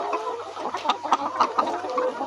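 Chickens on a poultry farm cluck in quick, overlapping bursts, close by and fairly loud, with soft farm background noise and no voices.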